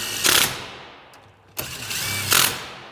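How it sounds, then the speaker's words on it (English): An impact gun runs up engine head bolts in a few short bursts, two of them brief buzzing rattles and then a longer one, close and fairly loud, with mechanical clatter in between. "I'll just kind of use the impact gun to speed this up a bit"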